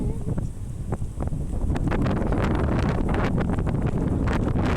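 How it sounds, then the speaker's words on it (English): Strong wind gusts outdoors on a cold day among trees, buffeting the microphone with a loud, rumbling roar that builds and stays heavy throughout. "Oh, that's a lot of wind."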